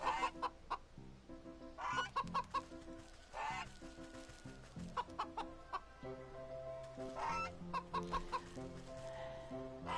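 Repeated loud honks and squawks from a hostile goose guarding a golden egg in the video game Wytchwood, coming in irregular bursts over continuous tonal game music.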